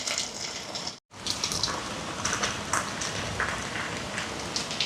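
Water pours steadily into a cooking pot with a splashing gush, briefly cut off for a moment near the start, then continuing close by.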